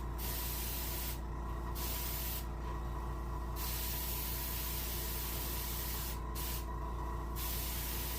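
Spray gun or airbrush applying a light coat of paint to the fins and tail of a brook trout taxidermy mount, in steady hissing bursts broken by several short pauses, close and continuous, with no talking.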